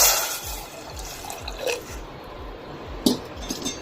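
Water trickles and splashes into a pressure cooker with rice for fenugreek porridge, with a few soft drips and light clinks over a quiet background.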